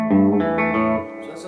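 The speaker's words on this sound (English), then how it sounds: "that's a nice clean tone on the back pickup." A clean electric guitar played on the back pickup through an amp with moderate reverb, a short phrase of a few ringing notes that decay into a reverberant tail.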